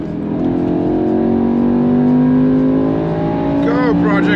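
A car hauling a BMW S65 V8 engine block drives off, its engine droning loud and close with a steadily rising pitch as it accelerates, and a brief squeak near the end.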